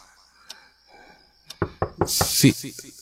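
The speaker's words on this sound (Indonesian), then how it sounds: "ku dengar ada yang mengetuk pintu kamar." Knocks land on a bedroom door, first faint and isolated, then a quicker run of four or five sharper raps, followed by a voice and a hiss of background noise.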